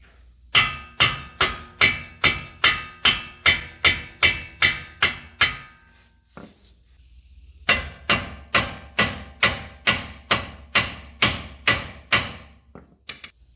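Hammer tapping a CV axle into the hub of a 2016 Honda Civic, about two dozen sharp, evenly spaced metallic knocks in two runs separated by a brief pause, close and loud.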